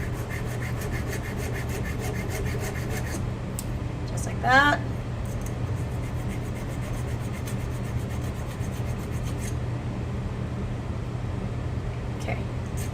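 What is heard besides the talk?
sanding a tube's edges smooth with a file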